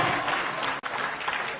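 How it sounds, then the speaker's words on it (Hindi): Steady, dense applause from an audience at a Rajasthan government event, continuous and fairly loud with a brief dropout partway through. "तालियां निरंतर बजती रहनी चाहिए साथियों।"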